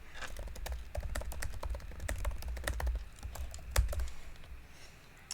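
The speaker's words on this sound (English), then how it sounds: "Living for the teacher typing noises." Rapid clicking keystrokes on a computer keyboard, a steady irregular patter of light taps at close range with a low room hum beneath and no voices.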